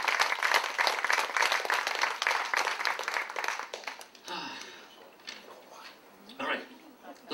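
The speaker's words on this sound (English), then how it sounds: "Another round of applause." Audience applause at a Degas art auction in Australia: sustained, dense clapping for about four seconds, then fading into scattered claps with an auctioneer speaking over the room.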